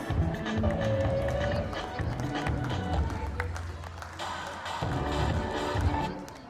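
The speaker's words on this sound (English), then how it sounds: "Let us cheer loudly for our little champions." A crowd cheers and calls out at a play school's annual sports day, a steady, fairly loud wash of voices lasting several seconds with some brighter voice lines rising above it.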